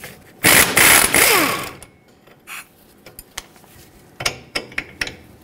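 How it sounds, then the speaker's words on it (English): A ratchet turning a 21mm socket on a strut bolt while removing the front lower control arm of a 2007-2014 Chevrolet Silverado 2500 HD: a loud rapid clicking burst, a pause, then several sharper separate clicks nearby. "Use a 21mm socket and remove the strut bolt"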